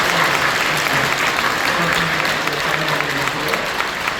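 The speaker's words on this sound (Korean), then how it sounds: "뜨겁게 박수 감사합니다" A church congregation at a Christmas service applauds warmly, a full room of steady clapping that stays level for several seconds, with a faint voice and some low tones beneath it.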